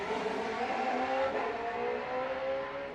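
Gould GR55 historic race car driving at the Historic Leyburn Sprints in Australia, its engine a loud, steady, rich roar that holds for the whole stretch with no talk over it.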